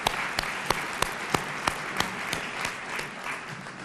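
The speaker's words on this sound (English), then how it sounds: "Let's give them a round of applause anyway." An audience at a family and community engagement conference applauds, a dense, steady wash of many hands clapping with a few sharper individual claps standing out at a regular beat throughout.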